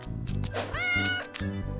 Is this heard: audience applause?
no